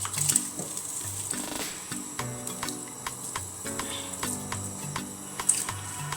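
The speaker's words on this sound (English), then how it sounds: "So I give my rice a few wash." Rice is being washed by hand in a large bowl of water, with soft sloshing and swishing plus irregular light clicks and taps of grains and fingers, fairly quiet and close.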